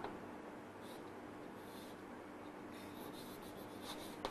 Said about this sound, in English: so next I can write over here